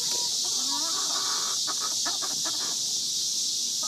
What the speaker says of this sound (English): There's a wild chicken,